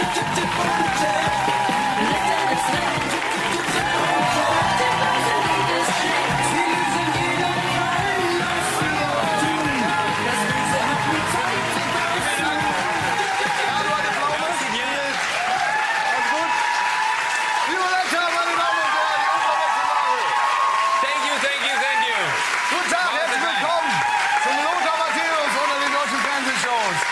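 Sustained applause from a studio audience at a German TV entertainment show, a dense loud clatter of clapping that carries on for the whole stretch, swelling and thinning, with some crowd noise mixed in.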